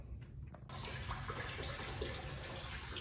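Water surging and rushing through a water heater tank being flushed of sediment, a steady loud gush that starts abruptly after a brief quieter moment.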